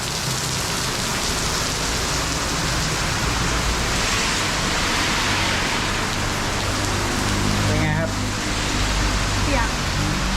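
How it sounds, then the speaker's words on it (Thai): Heavy rain pouring down in a loud, constant roar at a street food night market in Penang, drumming on nearby surfaces, with a brief muffled voice partway through. "เสียใจฝนตกแรงแล้วเนี่ย"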